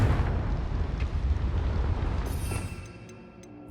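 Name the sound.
Confringo spell blast in the video game Hogwarts Legacy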